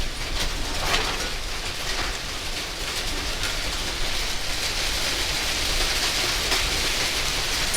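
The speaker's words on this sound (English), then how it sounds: "Yeah, it's definitely hailing." Hail falling outside an open patio door, a steady dense patter and hiss of stones striking surfaces that holds evenly loud throughout, with no talking.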